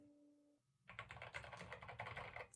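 Keys pressed on the keyboard of a Commodore 64 Ultimate Founders Edition. A rapid run of close, crisp clicks follows a short tonal hum, with no talking.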